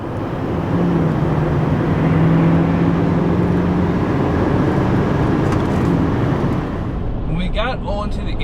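A 2024 Chevy Silverado 3500 dually pulling from 60 to 80 mph: a loud, steady cabin drone with a faint engine tone that climbs as it accelerates, easing off near the end.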